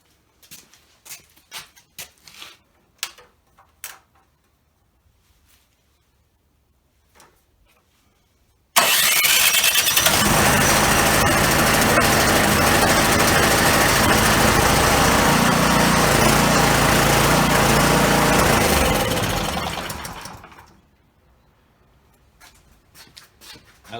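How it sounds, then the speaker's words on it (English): After a few soft clicks of handling, a snow blower engine with its fuel turned off starts abruptly and runs loud and steady for about twelve seconds, then sputters and dies out as the fuel is used up. "I'm going to start it up, turn the gas off, and run the gas out of the machine"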